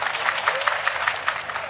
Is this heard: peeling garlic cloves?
no